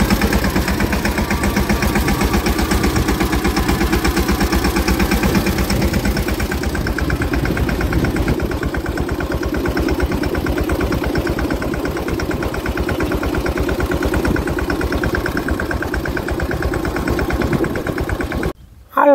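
A tractor engine runs on a farm with a loud, steady, close-up drone and pulsing rumble. It holds an even pitch throughout and cuts off abruptly at the very end.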